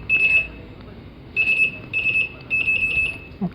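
An M45OTO Android motorcycle security alarm goes off when tampered with, sounding piercing high beeps in repeated close bursts separated by brief pauses.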